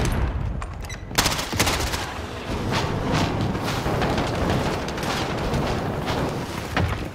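Automatic rifle fire from an AS VAL in a Warzone battle royale match, rapid sustained bursts with sharp reports and booming impacts running nearly continuously, loud and close throughout.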